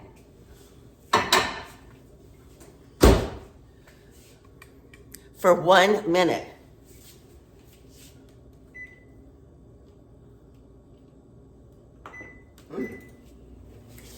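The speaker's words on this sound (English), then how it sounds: "put this in my microwave" A kitchen microwave oven: sharp door clunks and clicks, a brief spoken phrase, then a low running hum broken by short electronic beeps, all close by in a quiet room.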